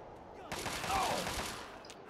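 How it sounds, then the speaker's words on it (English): Gunfire in the video game Fallout 3: a burst of rapid shots starts partway in and runs on steadily for over a second at moderate loudness, fading near the end. "just getting shot by somebody invisible"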